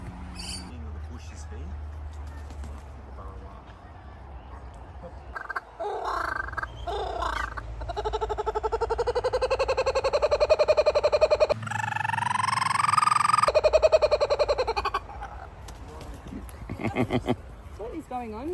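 A laughing kookaburra at an Australian wildlife encounter gives a loud, rising, cackling chorus of repeated harsh calls lasting several seconds, with people's voices and movement around it.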